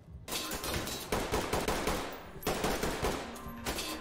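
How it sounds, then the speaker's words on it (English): Rapid video game gunfire in the tactical shooter Ready or Not, sustained bursts of loud automatic shots filling the clip with a brief pause midway, heard without talk. "I hear gunshots."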